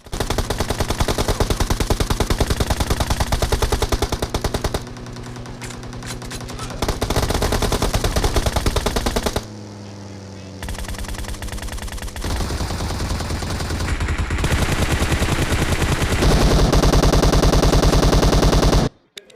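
Rapid bursts of automatic gunfire in a battle-royale style video game, fired at a buggy carrying two players, loud and close with sustained rattling volleys broken by brief pauses and shifts in intensity.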